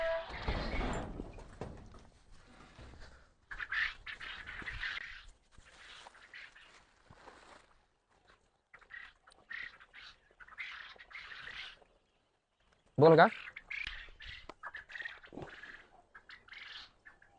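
Quail on a farm, about 35 days old and starting to lay eggs, give many short, bright chirping calls in irregular bursts, close and moderately loud, with a brief spoken word partway through.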